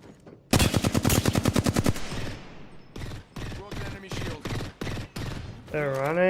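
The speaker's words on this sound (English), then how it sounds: "The enemies are shooting at me." Gunfire in the video game Apex Legends: a loud rapid burst of automatic shots, followed by several separate short bursts, with a rising electronic tone at the end.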